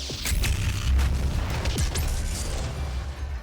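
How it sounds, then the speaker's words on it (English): Massive BFG blast in DOOM (2016) setting off a chain of nearby explosive barrels: heavy booming crashes and bursts pile up in the first two seconds, with whooshing debris, then a rumbling tail dying away. "the explosion is so damn big that, like, essentially every single explosive barrel, like, in your general vicinity will get affected by the BFG"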